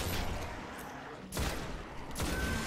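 Heavy gunfire in the sci-fi shooter Destiny comes in thick, loud bursts with brief gaps between them, rattling and booming close by.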